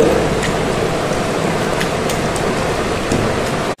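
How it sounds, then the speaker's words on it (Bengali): Jute leaves are washed by hand in water, making a close, continuous sloshing and splashing rush that stops abruptly at the end. "এখানে আমি পাট পাতাগুলোকে ভালো করে ধুয়ে নেব, ঠিক এইভাবে।"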